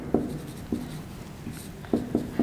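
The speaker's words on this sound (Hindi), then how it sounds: "तो माध्य का सूत्र वही लिखेंगे हम" Someone writes a math formula for the mean by hand, producing a handful of short, crisp tapping strokes at an uneven pace, close and clear over a quiet background.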